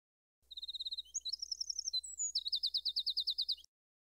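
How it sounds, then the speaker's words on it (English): A songbird recording plays from a bird identification app: a clean series of rapid, high chirped notes in several trilled phrases, alone and close, lasting about three seconds. "typically this would automatically play the sound of the species that you're trying to identify"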